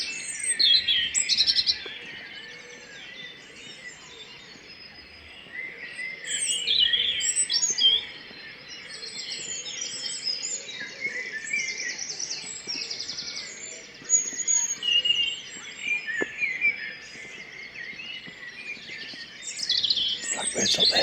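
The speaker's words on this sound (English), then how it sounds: "I've got a robin" A robin sings outdoors in a long run of high, thin warbling phrases broken by short pauses, with other birds chirping around it and no talking.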